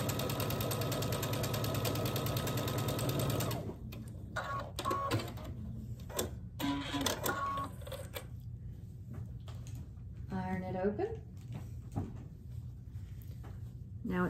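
A sewing machine stitches quarter-inch seams on quilt pieces, running in a steady whirring burst at first, then stopping and starting in shorter runs amid handling noises, fairly quiet and close.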